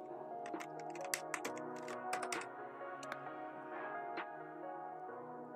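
Quiet, irregular clicking of keys typed on a computer keyboard, with faint steady tonal hum underneath and no talking.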